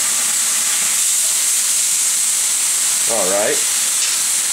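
Liver cooks in a pan just after being flipped, a steady, loud, close sizzling hiss running throughout, with a brief voice near the end.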